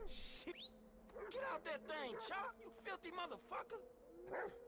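A dog in GTA 5 barks and yips in quick, uneven bursts with a few whimpers, fairly close, over a steady game background, while people talk over it.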